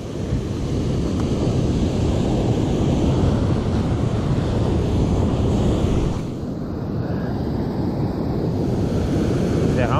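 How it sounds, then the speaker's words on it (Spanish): Big ocean waves break and roar steadily on a beach during surf fishing for roosterfish, loud and close with wind buffeting the microphone, the wash dipping briefly before building again. "Dejaron venir unas olototas."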